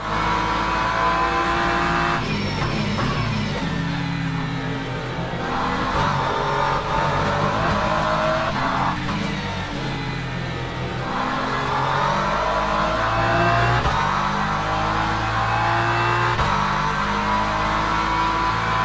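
Race cars in Le Mans Ultimate, a racing video game, accelerating off the start, with layered engines revving and climbing through gears, loud and continuous for the whole stretch.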